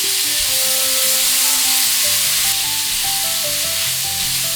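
Strips of meat sizzle loudly in a hot pan with light soy sauce and oyster sauce, alongside fennel in a Chinese stir-fry; a steady, dense frying hiss with faint tonal music running underneath.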